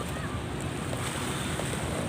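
Sea waves wash along the Manila Baywalk shore on Roxas Boulevard, a constant loud roar of surf mixed with heavy wind buffeting the microphone and no clear breaks.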